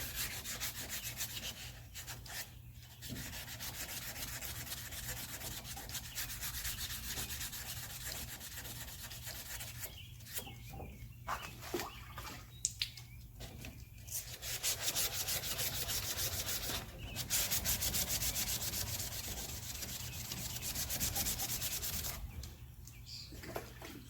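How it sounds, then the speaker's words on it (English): Steady abrasive scrubbing of sandpaper against the body panel of a 1969 Dodge Dart, continuous and close, with brief pauses between passes. "My sandpaper caught the edge of it as I was sanding right there."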